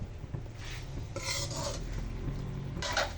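Metal ladle scraping and clanking in a noisy pan while pork teriyaki cooks in oyster sauce, a faint, steady stir with a few brighter metallic scrapes under low background hiss, no talking.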